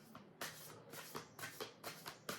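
Cards riffle-shuffled in a series of crisp, bursting rustles, five or six quick bursts in a steady rhythm, fairly quiet and close.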